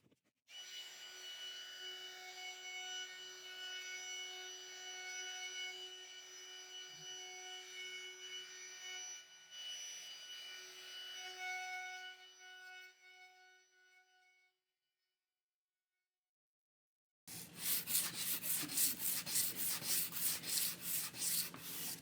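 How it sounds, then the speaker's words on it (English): A router mills a juice groove into a wooden board held in a jig, starting with a high steady whine that fades to silence, then resuming as a loud, pulsing cutting roar. "I'm going to go ahead and mill the juice groove."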